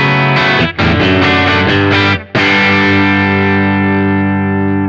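An old MJT T-style electric guitar played through a heavily modified JTM45-style tube amp, giving crunchy, mildly distorted chords in a few quick strums, then one long ringing chord that slowly decays.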